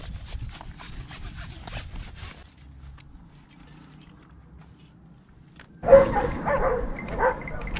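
Dogs barking at a climbing area in Leonidio, Greece, a distant muffled burst at first, then a loud close flurry of barks near the end after a quieter stretch.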